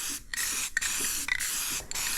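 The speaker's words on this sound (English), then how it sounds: "About to start spraying." A spray gun lays silver base coat on a 1932 Ford, firing in four loud hissing bursts of about half a second each, separated by brief pauses, with no talk.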